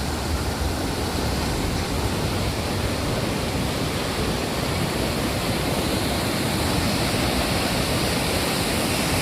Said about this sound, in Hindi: देख रहे हो भाई कितना पानी जा रहा है, तेज जा रहा है।